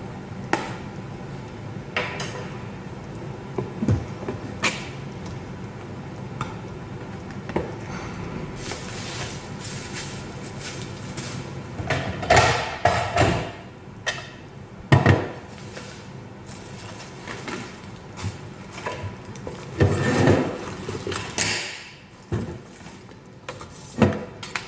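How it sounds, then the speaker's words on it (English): Close handling noises as the cardboard box of an ALISKID 5-blade vegetable spiralizer is opened: rustling, flaps knocking and parts shifting, in irregular bursts that grow busier midway. "open the box"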